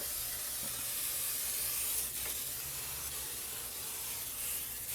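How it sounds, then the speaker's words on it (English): Cooking spray oil misted onto the bottom of a baking pan, a steady broadband hiss running the full length at moderate level with no voices, broken by a couple of faint spurts. "you need to make sure you spray the bottom of your pan"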